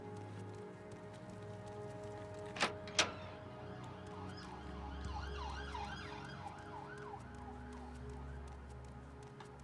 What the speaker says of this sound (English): I think that was a police car, though.